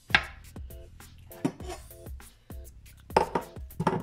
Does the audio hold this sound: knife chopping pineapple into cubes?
yes